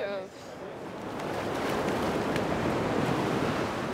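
Ocean waves break on a beach on the southwest coast of France, a loud, steady broadband roar of surf that swells and holds throughout, with a brief voice at the very start.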